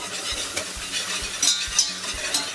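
Starch whisked quickly into hot olive oil for a roux, a rhythmic scraping stir over a soft sizzle with a few sharp metallic clicks of the whisk against the pan.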